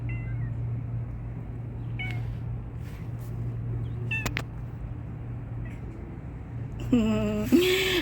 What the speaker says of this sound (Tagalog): Ang pusa, naligaw siya.